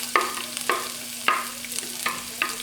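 Red onions frying in a pan and being stirred, with about five scraping strokes spaced evenly over a soft, steady sizzle and a low hum.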